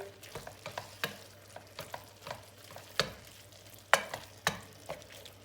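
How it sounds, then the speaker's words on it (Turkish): A spoon scrapes and stirs through tomatoes and paste sizzling in a pot, with sharp clacks against the pan and a constant frying hiss underneath. "Fazla dağıtmadan şöyle bir kere karıştırıyorum."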